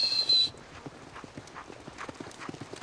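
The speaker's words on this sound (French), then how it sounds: "Dans quelques minutes, une trentaine de chevaux va passer près de lui." Hooves of roughly thirty horses drum past at a gallop, a steady scatter of clip-clop beats moving through open ground, moderately loud after a brief high tone at the start.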